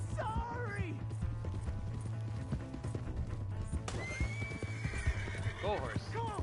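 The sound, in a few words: horse neighing and galloping in video game Red Dead Redemption 2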